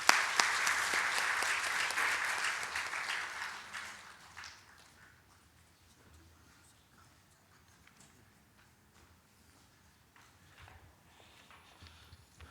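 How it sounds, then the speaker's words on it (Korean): A Korean Sunday service congregation claps together in a brief burst of applause lasting a few seconds, then fading into quiet room sound with scattered small clicks and movement. "박수하겠습니다."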